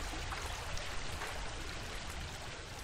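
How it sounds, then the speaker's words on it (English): Steady broadband rush of an emerald green waterfall in the video game Star Stable, a continuous even wash of falling water heard alone with no voices. "Just admiring this emerald green waterfall."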